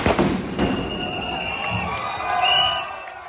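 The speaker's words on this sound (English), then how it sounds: "In Barcelona this weekend, firecrackers erupted as protesters vented their anger over the influx of visitors." Firecrackers burst at a street protest against over-tourism in Barcelona, a few sharp pops and crackles rising over a loud, cheering crowd.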